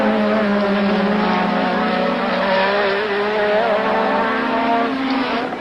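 Niki Lauda's Formula 1 car roars past at the 1984 British Grand Prix, a loud, sustained high-revving engine note with a slight pitch sweep as it goes by.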